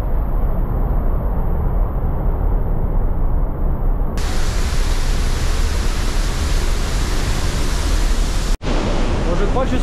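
Roaring waterfall heard from directly underneath, a loud, steady broadband rush of falling water filling the whole clip with one brief dropout near the end, set on a high-altitude off-road trip above 4500 m.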